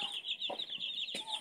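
A hen with her fourteen newborn chicks gives a few short, close clucks over a continuous high peeping.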